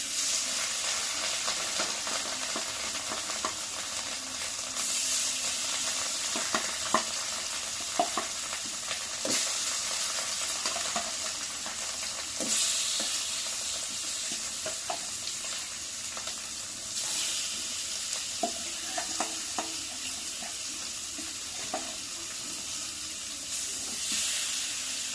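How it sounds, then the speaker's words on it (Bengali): Pieces of fish fry in hot oil as a home cook prepares a meal, a steady close sizzle and hiss running throughout with occasional stirring clinks and spatters. "সবগুলা মাছ ভেজে নিব।"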